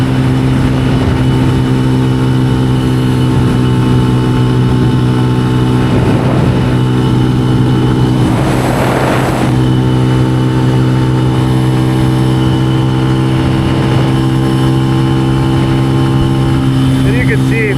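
A Benelli TNT135 motorcycle engine drones steadily at cruising speed with wind rush, rising briefly around the middle as it revs, while someone talks over it throughout.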